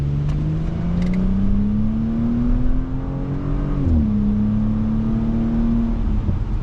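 A 2023 Audi S4 Premium with a turbocharged V6 pulls hard toward the redline. The engine note climbs steadily, dips briefly at a gear change, then rises again, loud and close, with no talk.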